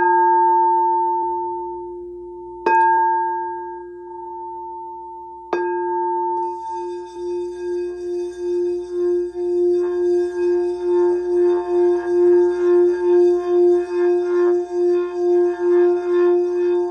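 An F-tuned singing bowl rings with a steady, sustained tone, struck twice, then rubbed into a pulsing, swelling hum that grows louder and fuller, alone with no talk.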